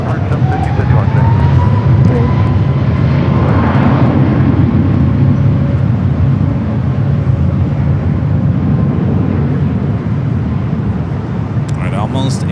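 A Delta Air Lines jet roars steadily as it departs LAX, a broad, loud engine rumble that holds for several seconds before easing slightly, with faint radio chatter mixed underneath.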